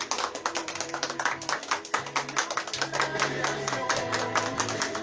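A church congregation claps together as an offering of applause to God, a dense, steady patter of many hands close by with a sustained tone underneath and no talk over it.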